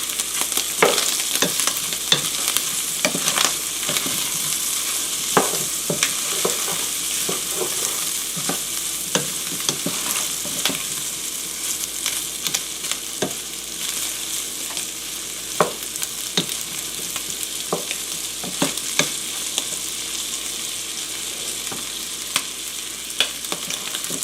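Ham sizzles and crackles steadily in a pan with melting butter as it caramelizes, a continuous frying hiss with sporadic sharper pops and occasional scrapes of stirring throughout.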